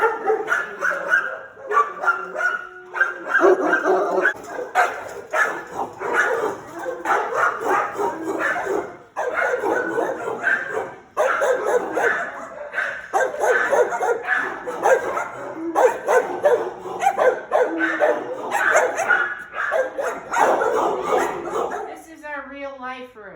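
Dogs bark and yip again and again inside an animal shelter, loud and close, with sharp repeated bursts and some whimpering mixed in, while a person talks over the noise.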